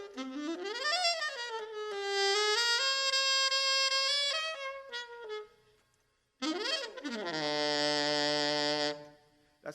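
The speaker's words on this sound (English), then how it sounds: "This is the sound of the alto sax." An alto saxophone at an elementary school concert program plays a solo melodic phrase with a swooping rise and held bright notes, pauses, then resumes with another swoop into a long sustained note.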